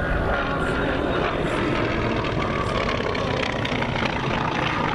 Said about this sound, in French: Donc ce microscopique chasseur était un avion infiniment manœuvrant, rapide.